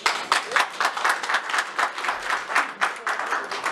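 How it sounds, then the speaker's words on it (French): An audience at a Gabonese Democratic Party anniversary gathering in France applauds, a dense burst of clapping that carries on steadily for a few seconds. "Vous pouvez applaudir."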